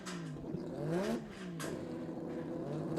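A Holden Rodeo race car revs at a drag racing event in Brisbane, the engine note climbing and falling in repeated sweeps, fairly close and loud over a constant background rumble.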